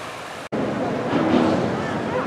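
A salmon stream near Anchorage, Alaska, rushes toward the ocean as a steady broadband wash of flowing water, heard close, with a voice talking over it.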